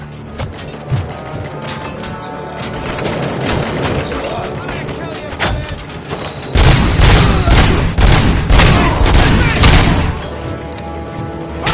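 Rapid video game gunfire builds from scattered shots into a dense, loud volley of repeated cracks and booms over a heavy rumbling bed, with shouted lines of combat dialogue in between.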